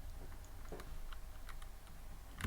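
Soft, irregular taps on a computer keyboard, close but fairly quiet over a low room hum, ending in a slightly louder keystroke, with no talking.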